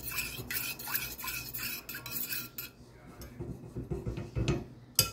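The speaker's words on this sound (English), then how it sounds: "You don't let this cook up in a pan for about maybe 30 seconds." Hot honey shrimp cook in a pan for taco filling, giving close clinks and scraping of utensil against the pan over a continuous sizzle, with a few louder knocks near the end.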